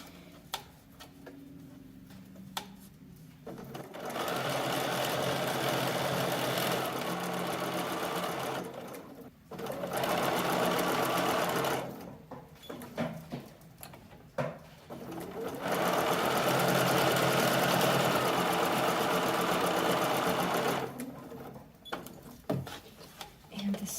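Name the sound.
sewing machine stitching a lingerie slip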